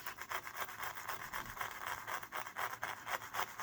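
A brush scrapes decorations off a banded spine in quick, rhythmic back-and-forth strokes, a close, steady raspy rubbing with no voices.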